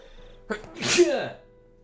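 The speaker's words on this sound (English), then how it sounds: "I feel a sneeze." A single close, loud human sneeze with a short sharp intake before the main burst, in a quiet indoor room.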